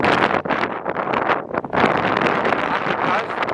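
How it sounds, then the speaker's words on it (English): Strong coastal wind roars and buffets the microphone at a low-tide shoreline, a loud, continuous gusting rush with sharp swells throughout, no talk over it. "Windy as hell."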